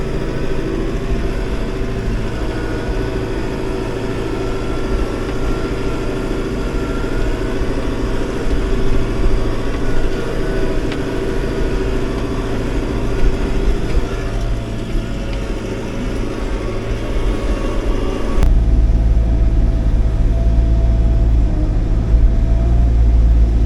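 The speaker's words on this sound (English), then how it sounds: "Nice, comfortable new tractor." A new tractor engine runs steadily at close range during log piling and road work, a constant droning rumble with a deeper, heavier low tone setting in near the end.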